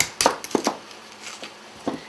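Knife chopping food on a cutting board in a home country-cooking kitchen, a few uneven sharp chops spaced out over two seconds, close and moderately loud, with no talking.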